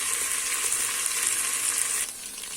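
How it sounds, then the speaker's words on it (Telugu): Food frying hard in a pressure cooker pot over high flame gives a loud, dense, steady sizzle close up that eases slightly near the end, with no talk. "కుక్కర్ గిన్నెలో అయితే త్వరగా వేగిపోతుందండి"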